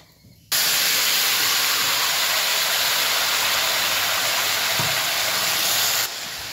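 Bottle gourd drops into hot oil tempered with spices and bay leaf, setting off a sudden, loud, broad sizzling hiss that holds steady for several seconds before easing slightly.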